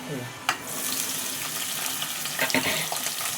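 Onion, green chilli and carrot pieces frying in oil for upma, a steady broadband sizzle with a sharp splash or clatter early on and a few more later, close and fairly loud, no voices.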